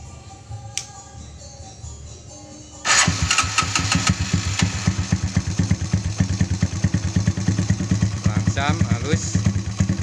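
Motorcycle engine fitted with a modified PWK33 carburetor and power jet starts up after a quiet moment and settles into a loud, steady, close-up run with a pulsing exhaust beat.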